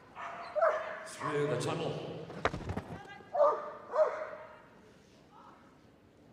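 A dog on an agility course at Crufts gives a few short, excited barks and yips amid arena noise, while a commentator and a handler talk over it.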